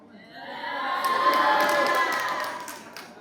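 A talk-show audience breaks into cheering and shouting that swells to a loud crowd roar and then eases off, with some faint clapping rising near the end.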